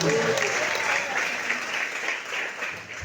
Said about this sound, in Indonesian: Kasih tepuk tangan yang luar biasa lagi.